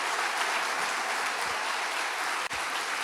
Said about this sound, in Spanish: quiero pedirles que no nos cansemos de darle un aplauso a todos los que sirven